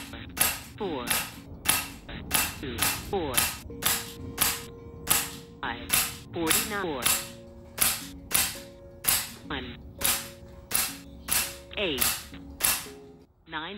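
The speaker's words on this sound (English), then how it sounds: "Let's see what it does on speed, shooting all the way from minimum to max," An FX air rifle fires about twenty sharp, loud shots in a steady series, stepped from minimum to maximum power, each crack followed by brief mechanical clicks, with a faint whine and hum between shots.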